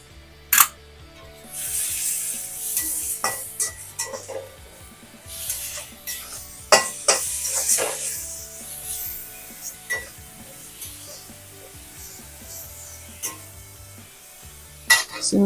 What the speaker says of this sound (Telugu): సిమ్లో పెట్టి మసాలాలన్నీ కొంచెం వేగనిద్దాం.